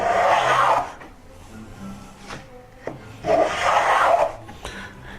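A hand plane shaving the flat top of wooden crown molding: two long, close rasping strokes separated by a quiet pause.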